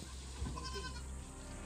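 Goats on a farm feeding on feed and corn, with a short bleat standing out over a low, quiet background of jostling and munching.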